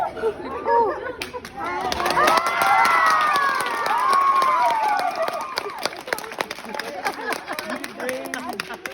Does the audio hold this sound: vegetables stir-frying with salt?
no